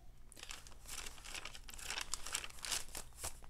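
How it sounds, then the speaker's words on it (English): Tea-dyed aged paper crinkles and rustles in a steady run of close, dry crackles with a few sharper crunches, heard alone without voices. "Aged paper. Of course, I love the sound of it."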